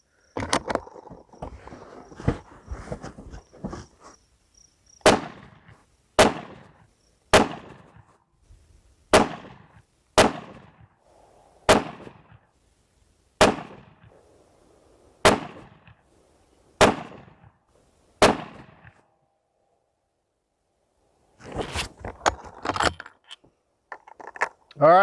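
A .300 Winchester Magnum rifle firing Berger 205-grain Elite Hunter bullets at an outdoor range, about ten sharp, loud shots spaced a second or two apart, each trailing off in a short echo, with brief talk at the start and end.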